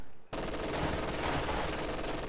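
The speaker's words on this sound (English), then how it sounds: "MG42 is going to try and hold this area." Sustained MG42 machine gun fire in a wartime video game, a dense continuous roar of automatic bursts that starts abruptly after a brief quiet moment and stays loud throughout.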